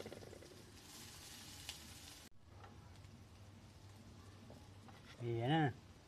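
Onion and garlic fry in cooking oil with a bright, crackling sizzle for the first couple of seconds. The sizzle then drops to a quieter simmer, and a short vocal exclamation comes near the end.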